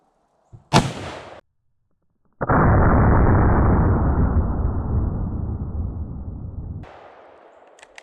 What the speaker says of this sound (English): I'm going to shoot the hollow point low center.